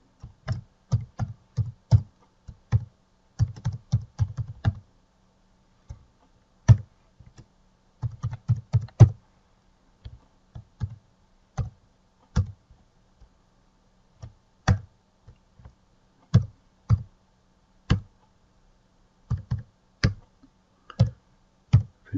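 Someone types a text string into the Cisco UCCE Script Editor on a computer keyboard: close, crisp keystroke clicks in quick bursts separated by short pauses, with no talking.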